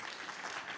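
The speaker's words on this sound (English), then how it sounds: "huge round of applause" An audience at a storytelling night applauds a musician, dense, steady clapping from a crowd filling the brief moment at moderate distance.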